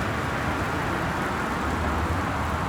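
A constant broadband roar of road traffic in a video game, like cars rushing past nearby, steady and unbroken for a few seconds.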